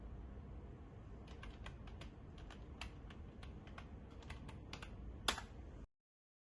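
A password being typed on a computer keyboard, quick irregular clicks of keys over low background hiss, ending with one louder keystroke, likely Enter, before sudden silence.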